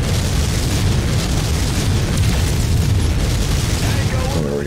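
Rapid missile explosions from battling mechs in MechWarrior 5 roll on in a loud, continuous barrage of booms, with a voice briefly heard over the din.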